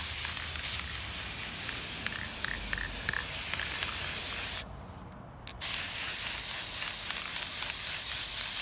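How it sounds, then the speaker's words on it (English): A spray paint can hisses in one steady, loud blast at an old license plate, briefly stops for about a second, then resumes spraying continuously. "bear with me when it comes to trying to spray something."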